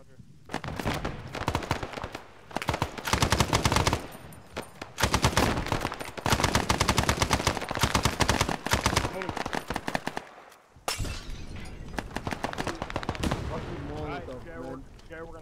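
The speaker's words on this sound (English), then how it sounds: "I'm getting shot. Alright, I think it's a machine gunner out." Sustained machine-gun fire in a video-game battle, with loud, dense bursts of rapid shots that stop briefly and then resume, while players talk over the gunfire.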